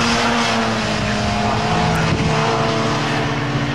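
Mini Se7en race cars lapping Brands Hatch, one car sliding sideways while passing slower traffic; a constant loud, buzzing engine drone fills the clip with a brief rising whine near the middle.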